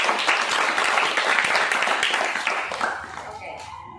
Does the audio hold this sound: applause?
yes